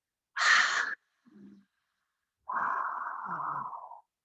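Exaggerated breathing through a partly closed throat in a quiet room: a raspy, hissing inhale, a short faint breath, then a long, steady, husky exhale like Darth Vader, made with the mouth closed, close to the microphone.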